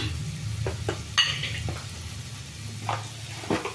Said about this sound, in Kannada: ಇದು ಚೆಂದಾಗಿ ಫ್ರೈ ಆಗಿಬಿಟ್ಟು ಎಣ್ಣೆ ಎಲ್ಲ ಬಿಡ್ತಾ ಬರುತ್ತೆ